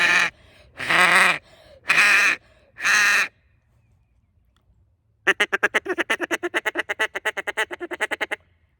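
A Duck Commander Shadow duck call is blown: four long drawn honking quacks in slow succession, a pause, then a fast loud run of short clipped feeding-chatter quacks, close and alone.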